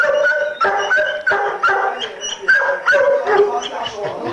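Rescued dogs bark and yip repeatedly in a loud, steady run of overlapping barks with whimpering tones, close by and continuous, with speech mixed underneath.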